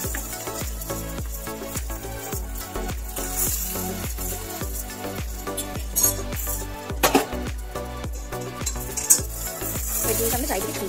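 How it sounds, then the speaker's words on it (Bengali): An egg frying in hot oil in a pan, with a steady sizzle under repeated clinks and scrapes of a utensil stirring and spreading it, close and fairly busy, no talking. "তো এখন আমরা এতে ডিম দিয়ে দিচ্ছি।"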